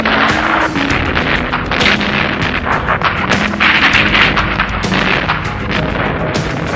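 Repeated booms of artillery and cannon fire from sea and land crack and rumble amid a dense, continuous barrage of gunfire in the 1945 Battle of Surabaya.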